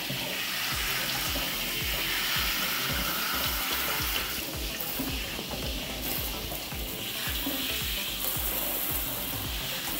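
Running tap water splashes steadily into a sink as a home HRV filter is rinsed under it, a continuous, dense, close hiss and patter with no pauses or talk.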